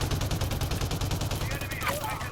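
Video game gunfire from medium- to long-range weapons rattles in rapid, even bursts over steady battle noise, moderately quiet, with a brief swooping tone near the end.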